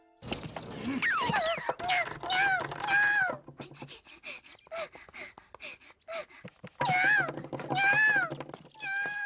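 Several drawn-out, rising and falling cartoon cat meows from a Turkish-dubbed Doraemon episode come in bursts, with short pauses between them, close and fairly loud.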